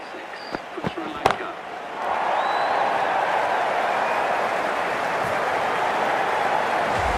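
Crowd applause rises in the cricket video game Cricket 24 for a T20 match between Bangladesh and Sri Lanka, a few sharp knocks first, then sustained clapping and cheering swelling into a steady wash.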